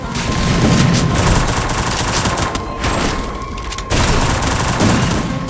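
Rapid bursts of gunfire and booming shots in a battle royale video game, dense and loud throughout with a brief gap before the firing resumes.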